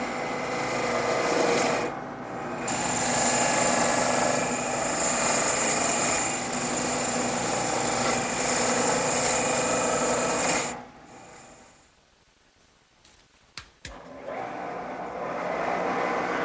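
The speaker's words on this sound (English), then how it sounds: "I'm going to speed up the lathe a little bit and make the final cuts." A wood lathe speeds up for final cuts on a turned part for a drop leaf table, giving a loud, continuous scraping whir that runs for about ten seconds, then drops to near quiet before a few faint knocks and a return of the hum.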